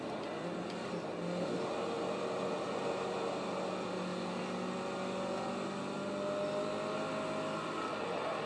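Race cars in the Forza 2 video game, a continuous whining engine drone with rising and falling pitch as the pack races, fairly quiet and steady.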